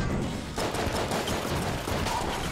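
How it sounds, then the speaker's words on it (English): Overlapping gunshots in Enter the Gungeon, with chance bullets firing extra shots from other guns, form a dense, steady volley of rapid fire at close range with no talk. "sometimes other guns' shots are fired when I shoot a gun that uses ammo"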